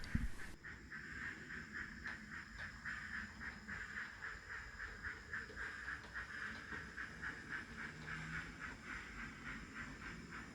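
An EFE model of the Adams 02 steam locomotive Calbourne running at a model railway terminus, giving a steady hiss with a faint rhythmic chuffing pulse throughout, fairly quiet and without talk.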